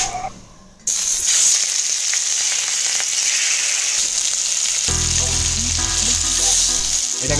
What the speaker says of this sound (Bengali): এটাকে সুন্দরভাবে এরকম ভেজে নিতে হবে